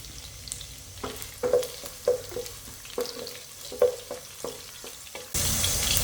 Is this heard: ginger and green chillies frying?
yes